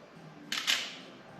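A single-lens reflex camera fires at a slow shutter speed, giving two close, crisp mechanical clicks about a fifth of a second apart, quiet and alone with no voices.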